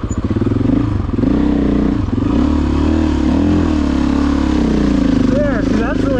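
KTM 790 and Africa Twin adventure motorcycles ride a mountain-top trail, their engine note loud and close, rising and falling with the throttle amid rumbling and clatter from the rough ground.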